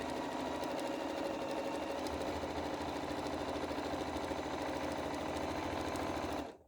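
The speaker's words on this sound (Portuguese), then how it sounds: "você só vai costurar e vai fazer ondinhas com a mão" Domestic sewing machine running steadily for free wavy quilting with a standard presser foot, a loud close continuous whir that cuts off abruptly at the end.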